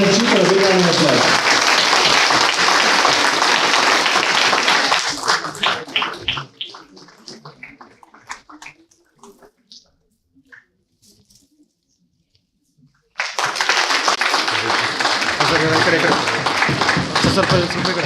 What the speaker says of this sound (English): Please use all your energy for a big round of applause.